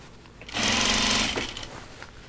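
A sewing machine stitching a fabric laundry basket runs in one steady, loud burst of less than a second after a brief quiet lead-in, then stops and leaves low room noise.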